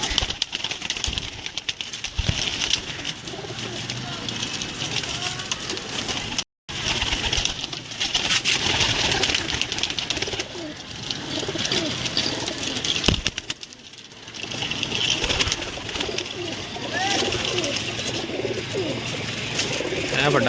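Pigeons coo steadily inside a loft, many birds calling at once close by, with bursts of wing flapping and someone talking intermittently over them.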